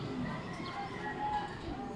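A pigeon coos softly at a loft, low repeated coo notes sounding moderately close over a faint ambient background.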